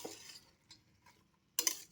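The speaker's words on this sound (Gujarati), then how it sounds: "ફેરવી લઈશું." Vegetables for pav bhaji are turned over inside a pressure cooker with a spoon, giving a few soft, brief scraping strokes in quiet surroundings, the last one a louder clatter.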